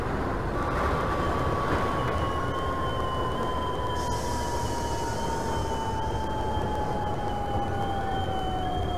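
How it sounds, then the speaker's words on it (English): A Manhattan-bound N subway train, an R68A on the Sea Beach Express in the OpenBVE train simulator, rumbles steadily and loudly. A high whine glides slowly downward throughout, with no talking. "This is a Manhattan-bound N train."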